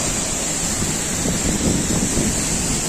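The Langkuik Tinggi waterfall, about 15 metres high, pours with a steady, dense roar of falling water that stays close and unbroken throughout.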